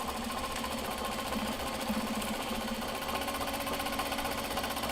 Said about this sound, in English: I would argue that is the more reassuring part if you hear a sewing machine